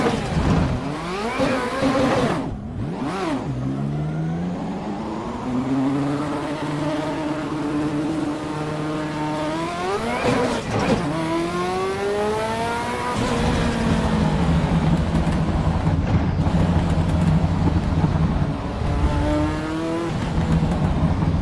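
A Ferrari F40 in the racing simulator Assetto Corsa, at the Nürburgring, revs hard and pulls away, its engine note climbing and dropping through repeated throttle blips and gear changes, loud and close throughout.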